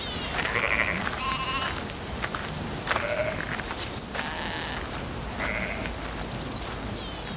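A flock of sheep bleats in the Provence countryside, several separate calls of varying pitch spaced a second or two apart, moderately near over a quiet outdoor background with faint insect buzz.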